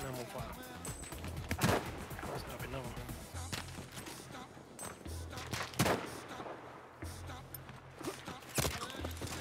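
Sniper rifle shots trade back and forth in Battlefield V online play, three loud sharp cracks spaced a few seconds apart over a low rumbling battlefield bed, with a player's voice talking throughout.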